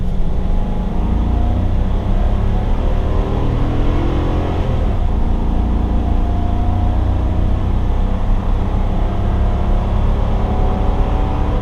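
A 2020 Chevrolet Silverado 2500 LTZ gas pickup with a trailer hitched accelerates hard, giving a steady, loud, low engine roar with broadband road noise that holds at one level throughout, and no talk.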